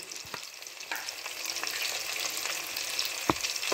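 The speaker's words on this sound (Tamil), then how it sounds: "நல்லா ப்ரௌன் கலர் வர்ற வரைக்கும் இதை நல்லா வந்து ஃப்ரை பண்ணணும்." Peanuts, cashews and black pepper fry in a pan with a steady close sizzle, broken by a few sharp crackles and pops, with no voices.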